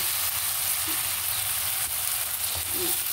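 Tomato, egg and meat sizzle steadily in a hot pan, a continuous close crackling fry with no talking over it.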